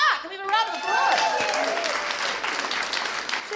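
A live studio audience at a comedy show breaks into a loud round of applause welcoming a guest star, the clapping sustained and dense throughout, with the host's voice briefly heard at the start.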